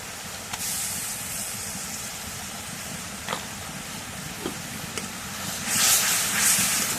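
A spice paste of onion, garlic and cumin with turmeric and salt sautéing in a pan, giving a continuous broad hiss with a few faint clinks and a louder sizzling stretch toward the end.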